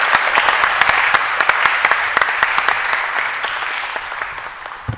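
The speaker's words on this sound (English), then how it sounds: "With a warm applause, Mr. Muhammad Niaz Abbasi, the Lord Mayor of Oxford." Warm audience applause at a conference opening ceremony in Oxford, dense hand-clapping with sharp individual claps that gradually thins and fades over a few seconds.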